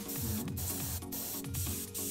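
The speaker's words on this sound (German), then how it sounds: "dann nimmst du die Farbe, sprühst das an" Paint sprayed from an aerosol spray can, a close hiss pulsing in several short bursts separated by brief gaps.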